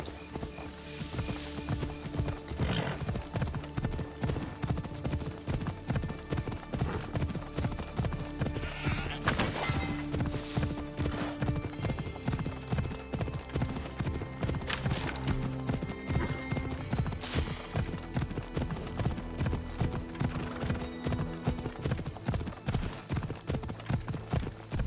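Horse galloping in the Assassin's Creed Odyssey game, a fast rhythmic clip-clop of hooves continuing steadily, with occasional whinnies and snorts.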